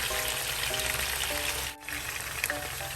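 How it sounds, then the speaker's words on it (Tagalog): Chicken frying in a pan for curry: a steady sizzle and crackle, a continuous hissing with a brief dip in the middle, heard close up. "sayaan natin siyang mag-golden brown at mag-prito"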